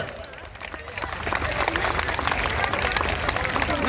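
Audience at a Valli Kummi dance festival at a Kavadi temple house applauds their first teacher, Ammaiyappa Gounder, with dense, steady clapping that swells after the first second and holds loud throughout, with crowd murmur mixed in.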